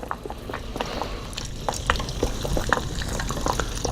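Wax melting in a double boiler: steady, soft bubbling and popping of hot water, with small crackles scattered throughout at a close, moderate level.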